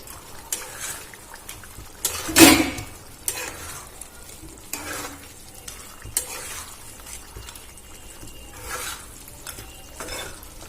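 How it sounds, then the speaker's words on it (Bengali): A spatula stirs potato and crushed fish head curry in a pot, giving soft sizzling and wet scraping strokes with a louder clatter of metal on the pan near the start, close by and without speech. "খুন্তি দিয়ে আমি এটা এর মধ্যে অ্যাড করে দেব দিয়ে ভালো করে নাড়াচাড়া করে নেব"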